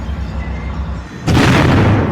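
Inside the besieged Kamal Adwan hospital, with an Israeli tank outside, a sudden loud, dense blast erupts after a quieter rumbling stretch, then keeps roaring with crackling bursts of heavy gunfire close by.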